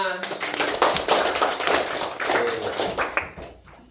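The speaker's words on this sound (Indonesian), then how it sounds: "Tepuk tangan untuk kita semua." A class of children claps in a classroom, a dense patter of hand claps that runs throughout and fades out at the end.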